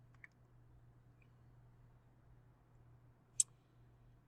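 A computer mouse clicks sharply twice, once early and once louder near the end, with long near-silence between the two crisp taps.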